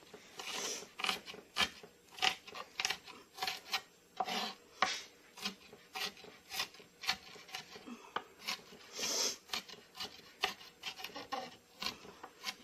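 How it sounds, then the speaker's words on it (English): Rapid knife strokes finely chopping ingredients for sloppy joes on a wooden cutting board, a steady run of sharp close taps and scrapes with no talk over them. "so finely chop it as best as you can get it"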